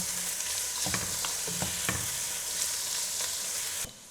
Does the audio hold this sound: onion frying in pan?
yes